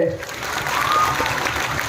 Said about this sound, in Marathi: चला भारत गणेशपुरे सरांसाठी एकदा जोरदार टाळ्या झाल्याच पाहिजे